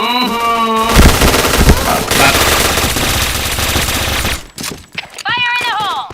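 Loud, rapid automatic gunfire bursts in a first-person shooting video game, dense crackling volleys close up with a brief pause near the end and background game sounds.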